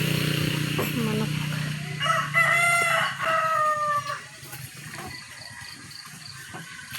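A farmyard rooster crows loudly and close by, one drawn-out call with clucking around it, while people talk nearby.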